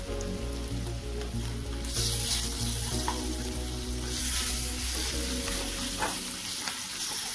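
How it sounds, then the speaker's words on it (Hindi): Ginger garlic paste frying with golden-brown onions in a pan while cooking Maharashtra-style kanda poha, a dense, continuous sizzle with stirring scrapes throughout, close and fairly loud. "तो चलिए अब इसमें डाल देते हैं अदरक लहसुन का पेस्ट।"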